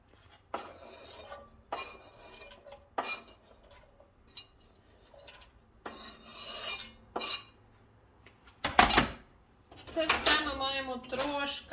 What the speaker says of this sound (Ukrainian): Перемішаємо. Дамо йому трошки підсмажитися